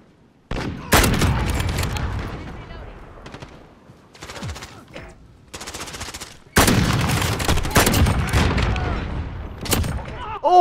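Heavy bursts of rapid gunfire and booms in a Call of Duty Modern Warfare match, loud sustained volleys with sharp shots between, under excited shouting from a player.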